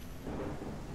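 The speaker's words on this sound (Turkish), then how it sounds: "Yağmur sesi de maşallah var ya." Heavy rain with a low rolling thunder rumble in the Ranch Simulator farming game, a dense wash of downpour swelling briefly louder, with no talk.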